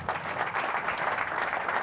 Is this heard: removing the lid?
no